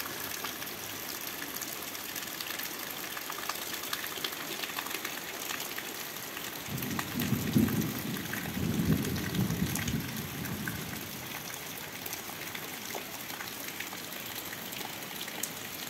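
A tropical-style summer downpour in the Moscow region: a faint, steady hiss of rain with a brief heavier gush of splashing water in the middle, no talk.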